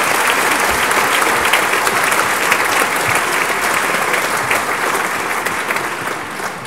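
A large audience at a book festival in Nancy applauds warmly in a dense, continuous roar of hand clapping that stays loud and even throughout.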